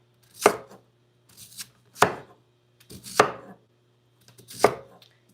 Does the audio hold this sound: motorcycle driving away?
no